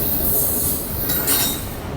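A Union Pacific intermodal double-stack train rolls eastbound past a station, a loud steady rumble of railcars with high wheel squeal and hiss building near the end, no voices.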